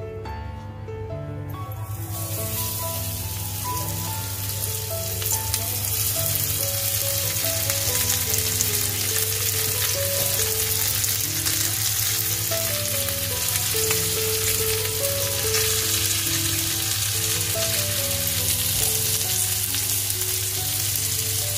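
Pomfret (halwa) fish coated in semolina sizzles steadily in a hot pan, a loud continuous frying hiss that holds unbroken from start to finish with no talking.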